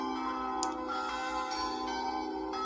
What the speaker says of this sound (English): We start with the ringing of the bells.